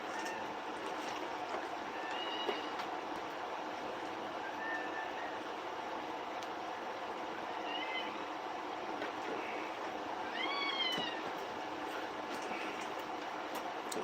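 A kitten lets out several faint, thin meows scattered over steady background noise, each one short and rising, with a few more close together near the end.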